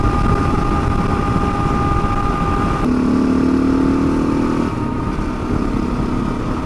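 A KTM 690 motorcycle rides past lakes with a loud, continuous engine drone and strong wind rush. The pitch shifts slightly partway through, with no talk.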